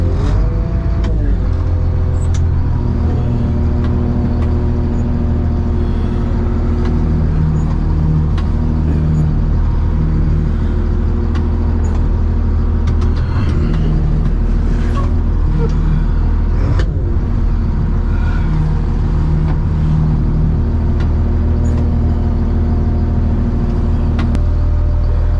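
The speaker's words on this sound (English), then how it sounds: "Power steering's starting to misbehave on this old bucket truck." An old bucket truck's engine idles steadily and close by, a constant low rumble with a faint whine from struggling power steering, running alone without talk for the whole stretch.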